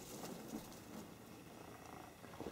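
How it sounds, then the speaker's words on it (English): Several cats purr softly in a snowy setting, a faint, low continuous rumble with small shifts in intensity and no voices. "Here's some kitties for Milo."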